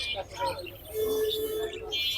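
Thin, high chirps and whistles of caged birds at a bird market, scattered over a steady hum of ambient noise, with several birds calling at once from nearby.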